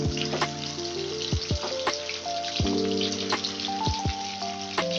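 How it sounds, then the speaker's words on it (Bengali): Eggs fry in mustard oil in a wok with a steady crackling sizzle and scattered sharp pops, set against sustained background music. "কড়াই আমি সর্ষের তেল দিয়েছি এবার ডিমগুলোকে সব নিয়ে ভাজতে দিয়ে দেবো"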